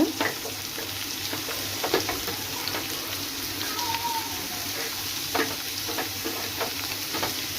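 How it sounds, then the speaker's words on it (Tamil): Chopped onions and tomatoes sauté together in a hot pan for a fish curry, a steady close sizzle with scattered stirring scrapes and soft pops, with no talking. "வெங்காயம், தக்காளி போட்டு மொத்தமாகவே போட்டுட்டு நல்லா வதக்குங்க"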